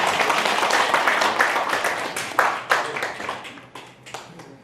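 Attendees at a Yeongcheon Hwangbo clan general meeting applaud in a room, a burst of many hands clapping that starts full and gradually thins out into a few scattered claps.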